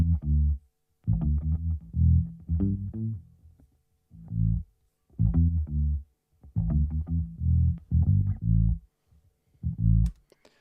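A bass line played through a guitar amp rig on a Basic Bass Pro setting, with punchy, deep plucked notes in short rhythmic phrases separated by brief pauses, moderately loud and alone.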